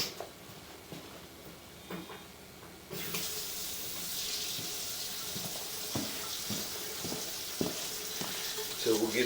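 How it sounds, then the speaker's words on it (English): Water pours from a tap into a basement stationary tub. A steady hiss rises and then runs continuously, with splashing and a few knocks, and a voice talks quietly under it. "I'm going to actually turn some water on in the stationary tub"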